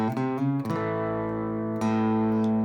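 Distorted electric guitar plays a short riff of chugging low notes with sustained chords ringing out, loud and close, no voices.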